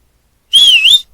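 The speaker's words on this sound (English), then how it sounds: "that's a whistle" A single bright whistle sound effect, about half a second long, sliding down and back up in pitch, loud and alone against silence.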